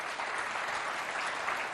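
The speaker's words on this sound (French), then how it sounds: "On applaudit les deux équipes." Applause for two school teams, IPEP 2 and IPEP 3 of Moundou, at a quiz contest, a steady, dense clatter of many hands filling the whole stretch at moderate level without a break.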